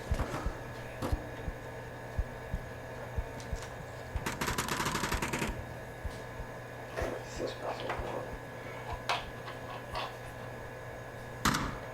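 Gunfire in a VR shooter game played with a ProTube Magstarter: scattered single shots, a dense rapid burst near the middle, then further sporadic cracks, with players talking throughout.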